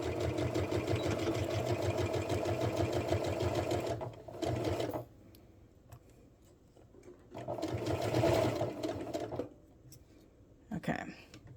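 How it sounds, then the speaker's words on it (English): A sewing machine stitches a sweater seam in long steady runs of rapid rhythmic whirring, stopping and starting twice with short pauses between, close and loud, with a person speaking in the background. "And we can start sewing."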